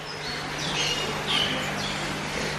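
Birds chirping inside a tropical rainforest house at a zoo in England, a few short, high chirps and squawks standing out over a steady background hum, moderately distant.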